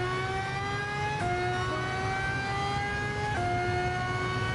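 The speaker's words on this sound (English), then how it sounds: "Oh, this car sounds so good." A race car in the Gran Turismo Sport video game, its engine holding a high, steady tone that climbs through each gear, with two quick upshifts dropping the pitch before it rises again.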